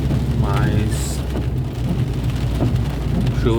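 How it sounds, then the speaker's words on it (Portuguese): Heavy rain pours down steadily in Lucas do Rio Verde, a dense constant roar, with a rumble of thunder and a voice speaking briefly over the downpour. "Muita chuva, Lucas do Rio Verde."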